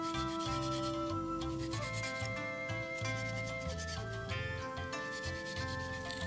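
Quick back-and-forth rubbing on lacquered brass clock plates from a Dutch Zaandam clock makes a soft scratchy sound, mostly buried under steady background music.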